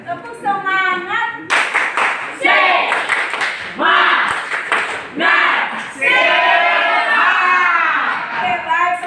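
A classroom of children performing a rhythmic spirit clap, loud bursts of clapping in patterned beats mixed with children chanting and shouting, an adult voice speaking between rounds.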